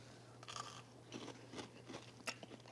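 Quiet, close crunching bites and chewing of crispy avocado fries fresh from the oven, several short crisp crunches spread across a few seconds with no talk.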